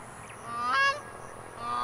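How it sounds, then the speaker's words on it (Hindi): An African grey crowned crane gives a loud honking call with a short bright tonal burst near the middle, heard alone outdoors over steady background noise. "ये बहुत तेज़ आवाज़ निकालते हैं बहुत तेज़ चिल्लाते हैं"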